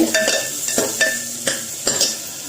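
Tomatoes and onions sautéing in a pan for a calcium-rich soup, a soft steady sizzle broken by several sharp spoon scrapes and taps against the pan at a slow, uneven pace.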